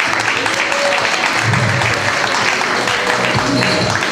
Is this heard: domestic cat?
no